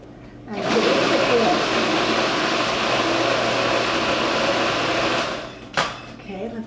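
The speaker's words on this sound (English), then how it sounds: "we're just going to pop these right into the food processor" A food processor chopping a batch of tomatoes for a healthy meatloaf, a steady loud whirring grind running for several seconds before stopping abruptly, followed by a brief clatter.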